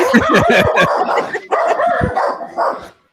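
A dog barks and yips in a quick, loud, close series of sharp calls, with a short pause midway before a few more barks and a whimpering tail-off.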